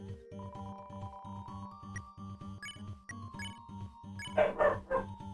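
Cartoonish game puppies barking repeatedly in Deltarune, a rapid rhythmic string of small yips over a tonal music line, building into a louder burst near the end.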